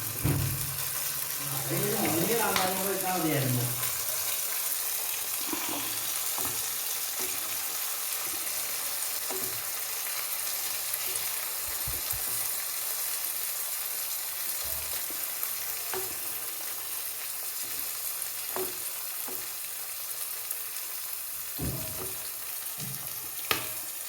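Amla, Indian gooseberries, simmer and sizzle in a thickened pickle mixture in a pan, a steady frying hiss through the clip with faint stirring clinks and brief voices early on.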